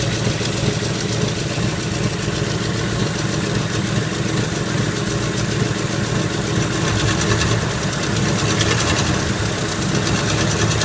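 A car engine runs loud and close, holding a steady throaty drone with slight rises in revs and no voices.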